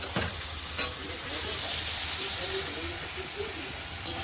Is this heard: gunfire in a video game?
no